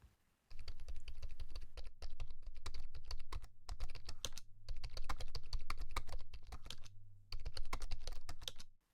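Rapid, steady typing on a computer keyboard, a dense run of close, crisp key clicks with a few short pauses, played alone with no talking.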